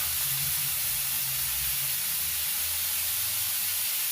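Fried potatoes sizzling in a hot pan as they go in, a steady broad hiss holding for the full few seconds with a low rumble underneath and no talking.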